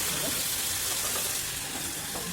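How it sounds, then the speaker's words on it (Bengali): Hot water poured into sizzling spice paste in a pan, giving a loud, steady hiss and frying crackle that fills the whole moment without pause. "আমরা একটু গরম জল করে নিয়েছি আমরা তার গরম জল অ্যাড করবো"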